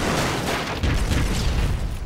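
Broforce platformer gunfire: a dense burst of loud, rapid booming shots and explosions fills the whole moment without pause.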